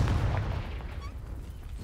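A Confringo fire spell explodes in Hogwarts Legacy, a deep muffled boom at the start that rolls off into a low rumbling decay, moderately loud with no talking over it.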